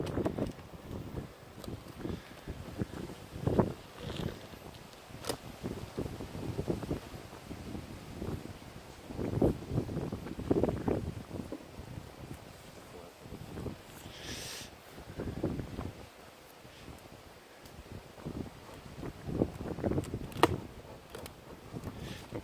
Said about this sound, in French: mais il y en a un peu de vent.